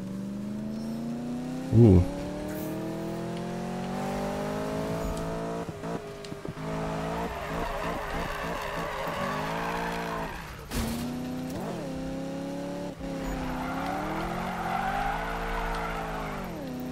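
Camaro Z/28 drift build in Need for Speed 2015, engine droning and rising through gears with tire squeal during slides and a brief loud bump near the start; a voice exclaims briefly.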